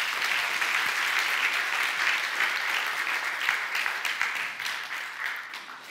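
A church congregation applauds steadily for several seconds, a dense, even wash of clapping that stays loud throughout with no talk over it.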